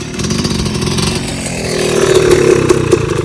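A Kawasaki KX 250 two-stroke dirt bike at a motocross track, its engine buzzing and crackling close by, rising into sharper revs near the end.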